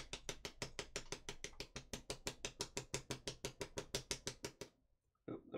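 Toothbrush dabbing paint onto a miniature, a quick, even series of about two dozen close scratchy taps, each with a short bristly tail, stopping abruptly before one last faint dab.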